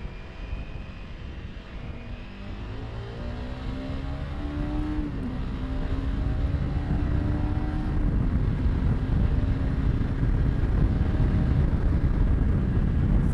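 An adventure motorcycle accelerates in a tall third gear along a washboard gravel road, its engine note climbing steadily and growing louder over rough wind and road noise.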